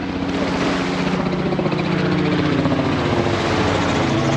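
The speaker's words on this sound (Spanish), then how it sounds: "Miren, hay un helicóptero ahí." A helicopter roars loud and close with a steady chopping rotor throb and engine whine that holds constant.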